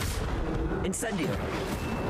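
The Incendio fire spell cast in Hogwarts Legacy, with a roaring, whooshing burst of flame over steady game background noise. A brief sharp flare lands about midway.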